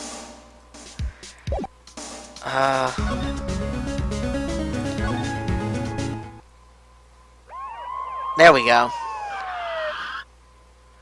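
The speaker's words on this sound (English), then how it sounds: "The police! Sounds like they're coming this way." A police siren wails over music and game sound effects in the courtroom video game Phoenix Wright: Ace Attorney, rising near the end with loud sliding tones, while someone speaks briefly early on.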